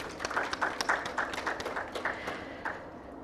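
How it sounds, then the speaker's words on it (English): Conference audience applauding the speakers at an event on care systems, a fairly quiet patter of separate claps from a modest crowd, heard from a distance. "a round of applause for their thoughts"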